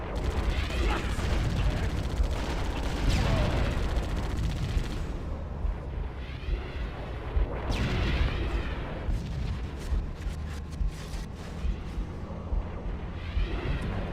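Gunfire and explosions from the video game Halo: Combat Evolved: dense, loud bursts of shooting and booming blasts roll through, then thin out into scattered sharp shots and crackles.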